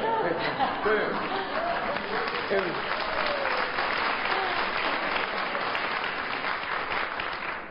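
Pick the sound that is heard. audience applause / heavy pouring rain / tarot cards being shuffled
audience applause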